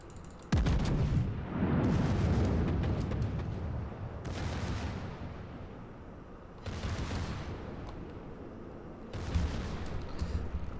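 Battleship secondary guns of the Ohio fire in World of Warships, in loud booming volleys that come in repeated bursts under a steady rumble of naval combat.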